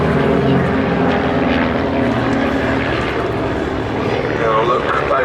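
Team Raven propeller aircraft in formation at the Duxford Battle of Britain air show produce a steady, loud engine drone passing overhead, a continuous throbbing roar with no breaks for several seconds.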